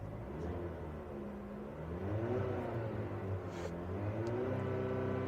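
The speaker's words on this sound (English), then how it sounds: "So let's give this thing some revs and let's see how it sounds." A 2026 GMC Acadia SUV engine revs up from a low fast idle, pitch climbing in smooth surges and holding at a steady higher drone against a soft limiter near 4,000 RPM, recorded close with no talking.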